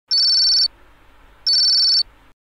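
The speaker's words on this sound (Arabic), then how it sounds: "جماعة في موبايل بيرن جوه اهو" A mobile phone rings inside a Toca Boca game scene, giving two loud electronic ringtone bursts about a second apart with a low hum between them and no talking.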